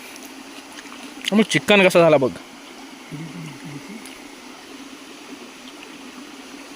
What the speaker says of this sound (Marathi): बॅकग्राऊंडला असा आवाज येतोय मस्तपैकी हाळाचा